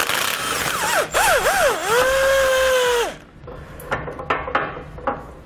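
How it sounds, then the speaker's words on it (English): A power tool with a long extension and 14 mm socket spins bumper beam nuts off a 2017 Subaru Outback Wagon, a loud whirring burst that rises and dips several times, then quieter metallic clinks and handling noises. "We're going to pull all the nuts that are holding our bumper beam in place off."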